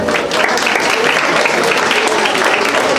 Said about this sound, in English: Dishita, a round of applause for them.